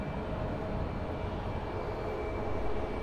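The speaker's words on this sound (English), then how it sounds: "Looks like they're landing on runway 8." An airplane landing on a runway at Phoenix Sky Harbor airport, a loud, steady broadband engine roar holding for a few seconds with no talking.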